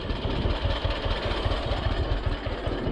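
A John Deere 50 tractor's engine runs steadily nearby with a low, rhythmic, knocking chug, loud and continuous with no talk over it.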